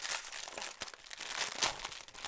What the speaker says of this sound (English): there's the plastic bag. So that works like a regular plastic bag.